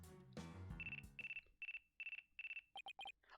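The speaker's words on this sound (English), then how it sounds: "Looks like I have a phone call." Phone ringing in the Ace Attorney: Dual Destinies video game: a repeated electronic ringtone of short, bright, evenly spaced tones that ends in a quick warbling flourish, heard alone after a brief swell of music.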